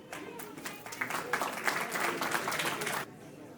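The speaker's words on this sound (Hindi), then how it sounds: "तो आइए बड़े ही सम्मान और आदर के साथ तालियों से स्वागत करते हैं हमारे पूर्व अध्यक्ष" An audience at a Hindi Day gathering applauds to welcome a former president of the association, moderate clapping with a few louder claps that fades out abruptly near the end.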